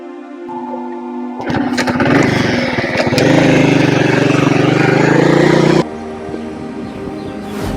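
A motorcycle engine starts up close by and runs loud and steady for several seconds at a rough, buzzing idle, then drops abruptly to a quieter background hum.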